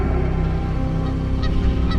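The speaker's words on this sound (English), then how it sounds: "This is a family of geese." A family of geese on water honks in a steady, close chorus of overlapping calls, continuous for about two seconds with no speech.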